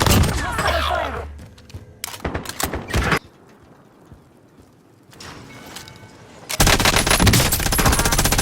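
Rapid automatic gunfire in the Call of Duty Warzone video game, loud dense bursts with a pause between them, over game ambience and battle noise.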